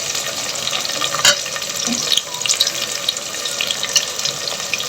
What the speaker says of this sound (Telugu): ఉల్లిగడ్డలు ఎర్రగా అయ్యే వరకే కొంచెం మనం మూసుకుంటే తొందరగా వేగుతాయండి.